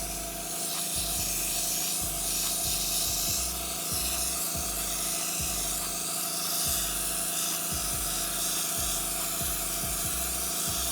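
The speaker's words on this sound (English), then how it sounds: "Now just going to spray the white on the front." Continuous airy hiss of an airbrush spraying white paint onto an RC car body, steady and close, with a faint compressor hum and periodic soft clicks underneath.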